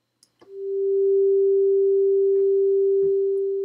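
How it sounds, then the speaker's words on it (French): A synthesizer holds a single pure sine-like note after a couple of faint clicks. The note is set with a long release and stays steady and clear, then tails off slowly at the end. Light clicks and thumps sound in the background. "quand je lâche, le son met un certain temps. La courbe est plus longue, donc il met un certain temps avant de disparaître"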